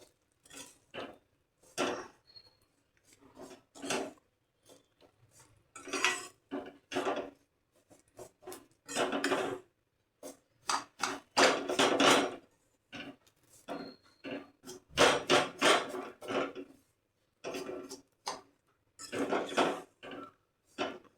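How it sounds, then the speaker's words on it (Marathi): Vermicelli roasting in ghee in a pan, stirred with a utensil that scrapes and clinks against the metal in irregular bursts of close, dry rasping strokes with short pauses between. "शेवया परतून घेतल्या तुपामध्ये"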